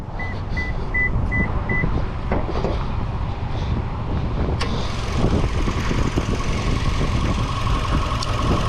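A 2023 Toyota Camry XSE's 2.5-liter four-cylinder engine idles steadily with a low, even hum. A few quick electronic beeps sound early on, and the engine note grows slightly brighter and louder partway through.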